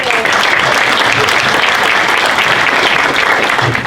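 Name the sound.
audience applause at a chamber of commerce awards event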